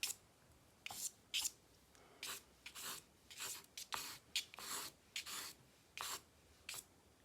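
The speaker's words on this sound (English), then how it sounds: "I'm going to come and draw some actual lines." Soft pastel pencil scraping across paper in a series of short, separate strokes, each a brief close rasp with quiet pauses between, steady rhythm throughout.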